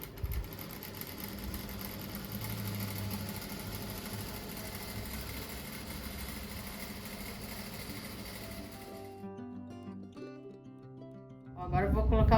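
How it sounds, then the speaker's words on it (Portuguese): An overlock sewing machine stitches along the inside edge of a flower rug, humming steadily and close up for most of the clip before it stops and some handling noises follow. "esse aqui eu resolvi só passar o overlock dentro do tapete mesmo"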